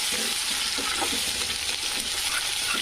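Onion fries in oil with mustard seeds and cumin for a bhindi dish, giving a dense continuous sizzle with soft stirring scrapes, no voices.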